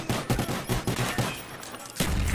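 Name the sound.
pistol gunfire in Call of Duty Black Ops video game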